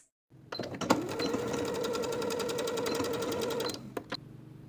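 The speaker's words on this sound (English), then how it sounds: "sew with a 1/2 inch seam allowance" A sewing machine stitches a bias tape seam at a half-inch allowance, starting with a couple of clicks, then running in a steady, close, rapid mechanical hum for about three seconds before stopping with a final click.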